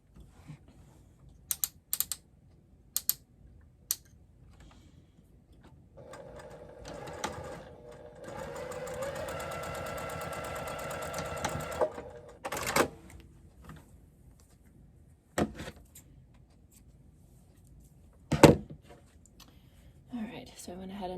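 A sewing machine runs steadily for several seconds, joining fabric pieces for a crossbody bag, framed by quieter handling clicks and taps while a person speaks.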